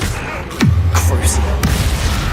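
A Confringo fire spell blast in Hogwarts Legacy: a swooping whoosh dropping into a low rumbling burst, followed by sharp crackling hits, loud and close.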